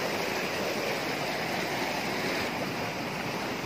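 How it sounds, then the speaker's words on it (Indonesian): Pancuran Rayo waterfall in Kerinci roars as a steady, dense rush of falling water, loud and unbroken throughout with no voices. "Ini langsung dari air terjun Pancuran Rayo."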